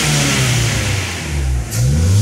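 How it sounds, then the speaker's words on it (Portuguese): A car engine revs hard during a catalytic converter test, a loud, close, sustained roar that dips briefly and then climbs again. "vou acelerar agora"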